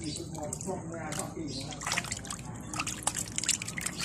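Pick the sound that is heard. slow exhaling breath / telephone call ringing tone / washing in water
washing in water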